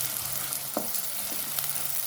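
Onions fry in hot oil toward golden brown, a dense continuous sizzle with a couple of soft scraping stirs, close and alone.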